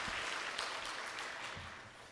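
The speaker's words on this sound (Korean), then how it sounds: "우리 격려와 축복의 박수 한번 하겠습니다" A church congregation gives applause of encouragement and blessing at an early-morning prayer meeting, a faint, even wash of many hands clapping that tapers off toward the end.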